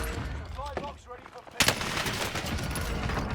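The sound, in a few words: MG42 machine gun firing in video game Warzone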